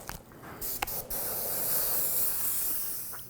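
A steady hiss of a spray paint can painting small parts of a Boba Fett helmet, a few short bursts at first and then one long continuous spray, close up with no talking.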